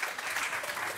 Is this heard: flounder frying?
no